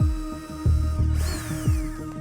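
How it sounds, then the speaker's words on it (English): A power drill bores holes into a DIY floating drawer cabinet for a laundry room, its motor whirring in repeated short bursts with clicks and a rising whine as the bit bites, no talking. "So I'm just gonna drill the other 2 holes."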